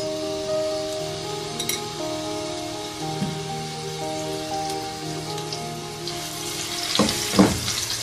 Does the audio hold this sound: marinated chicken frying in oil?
yes